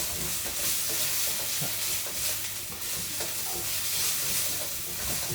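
Ingredients for crispy chilli beef are stir-fried in a pan, giving a steady loud sizzle with rhythmic scraping and tossing clatter throughout, with no talking.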